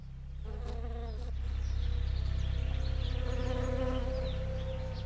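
Bees buzz loudly and continuously among flowering almond trees in a California orchard, a dense, close swarm drone that rises in the first second and stays steady, with individual insects passing nearby.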